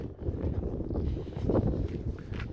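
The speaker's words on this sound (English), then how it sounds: "it's a bit windy here" Wind blows along a street in Södermalm, Stockholm, producing a soft, continuous low rumble on the microphone with faint rustling and slight surges, fairly quiet and without speech.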